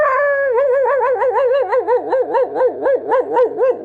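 A voice imitates a neighborhood dog barking late at night, a long run of steady, rhythmic woofs with a wavering, howl-like pitch, loud and close with no other sound.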